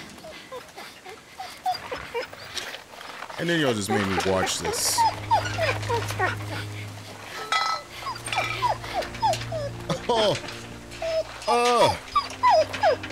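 A dog whimpers and yips in repeated rising, whining cries in The Walking Dead: The Telltale Definitive Series video game, over low droning game music. A player talks intermittently over it.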